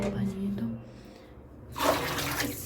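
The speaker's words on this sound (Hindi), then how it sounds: "पानी है, खैर गर्म पानी है" Hot water for washing dishes gushes out in a sudden splashing burst after a quieter stretch with a faint voice, the pour loud and close in a home kitchen.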